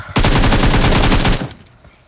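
Rapid burst of automatic gunfire from the mobile shooter game Free Fire, loud and evenly spaced shots for about a second and a quarter, then cutting off into quiet.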